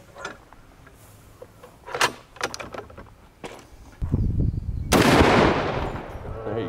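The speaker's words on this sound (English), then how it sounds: "What happens when you shoot a 50 cal round at a bowling pin?" A Bushmaster .50 caliber rifle fires at a bowling pin target on an outdoor range in South Texas, giving a sharp, loud blast followed by a broad, noisy rumble and trailing roar, preceded by a few smaller impulsive cracks.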